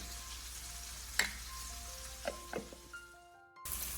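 Sliced onions fry and brown in a pressure cooker for a chicken dum biryani, giving a steady close sizzle with a few light clicks and stirring knocks. The sizzle cuts out briefly near the end.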